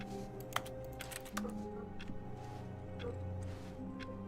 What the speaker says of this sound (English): I can hear my keyboard typing.